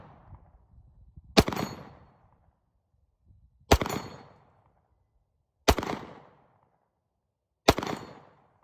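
Four sharp pistol shots at an outdoor range, each striking a swinging steel target, spaced about two seconds apart and loud and close, with a brief ringing decay after each crack.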